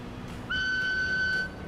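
Steam train whistle in Transport Fever 2 on a modded Swiss Alps map, one steady high-pitched blast lasting about a second, clear over faint background game ambience.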